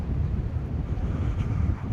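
Steady wind buffeting the microphone at a kitesurfing beach at low tide, a low rumbling roar that continues evenly throughout with no voices.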